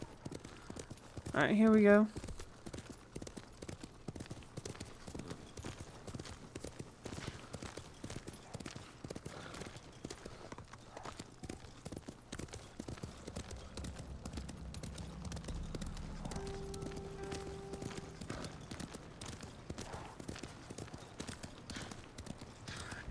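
Horse hooves in the video game Ghost of Tsushima, a steady rapid clip-clop of galloping running throughout, joined early by a brief loud whinny-like call, with someone talking over parts of it.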